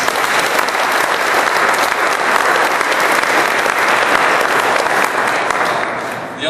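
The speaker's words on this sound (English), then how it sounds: "if we could have a round of applause for Lisa" Loud, sustained applause from an audience at a drug court celebration and book signing, a thick continuous roar of clapping that holds steady before easing slightly at the close.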